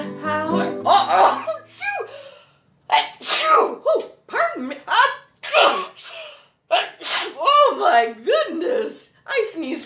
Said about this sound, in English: I did sneeze in my elbow.